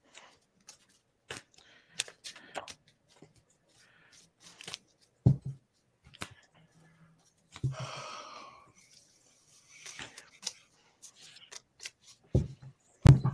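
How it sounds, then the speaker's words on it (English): A deck of tarot cards being shuffled by hand, giving sporadic crisp riffles and taps with short pauses between them, close and fairly quiet with no voices. "I was shuffling a couple cards of the deck and 2 cards flipped out."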